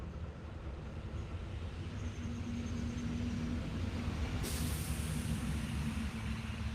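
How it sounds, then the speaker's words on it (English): A school bus passes by outdoors, heard as a steady low engine rumble with a drawn-out tone. The hiss brightens partway through, and the sound stays fairly even throughout. "Okay, it was a bus, school bus."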